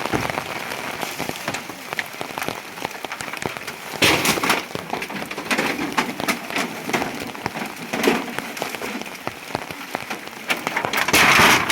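Rain pouring onto a house roof, a continuous dense patter and hiss that swells into heavier bursts at moments, with no voices.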